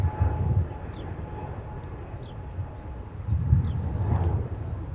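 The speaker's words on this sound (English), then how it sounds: "Departing on the north side, Delta" An Airbus A321neo Delta jet departs Minneapolis–Saint Paul airport, a steady broadband engine rumble with a low roar that swells and fades across the clip, heard from a distance without talk.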